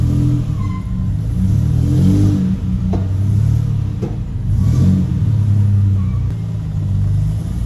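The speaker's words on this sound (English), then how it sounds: "Let's put it into gear and see if we move anywhere." Turbocharged EF Ford Falcon engine rumbling and revving in gear as the car pulls away, a loud, steady mid-pitched drone with repeated swells of throttle, close by and without talk.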